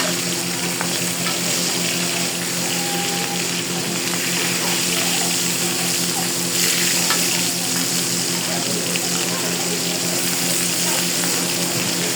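Hilsa fish frying in oil at a riverside ghat stall, with a loud, continuous sizzle and crackle that holds steady throughout, with a low hum underneath.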